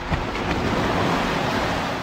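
A fresh wind blowing across a beach lined with moored pirogues, a loud, constant roar of wind and surf buffeting the microphone with no pauses or voices.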